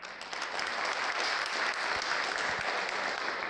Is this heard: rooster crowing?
no